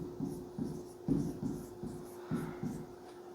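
Chalk or marker writing on a board in a classroom gives a close, rhythmic series of short scratchy strokes, about ten of them, over a steady low hum.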